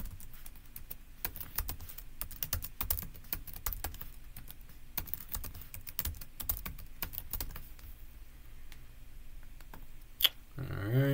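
Quick, irregular keystrokes clatter on a computer keyboard as a username and password are entered, with a short pause and a final few clicks at the end.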